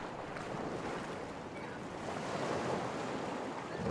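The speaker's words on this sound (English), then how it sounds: "You can hear the water in the background." Water waves wash softly in the background of a dungeon area in the video game Legend of Grimrock 2, a faint, steady surf-like rush with a slight swell toward the end.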